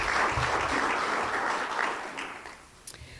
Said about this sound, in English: Give them a round of applause for all they do for this community.